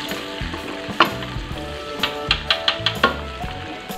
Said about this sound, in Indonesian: Lalu goreng lagi ayamnya.